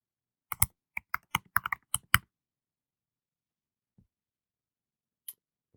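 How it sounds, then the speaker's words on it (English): Bursts of keystrokes on a computer keyboard, about a dozen quick clicks in an irregular flurry over two seconds, then a long quiet stretch with one faint thump and a single late click. "I'll type the next thing I want to say"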